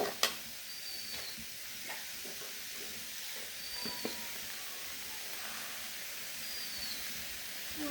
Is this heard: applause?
no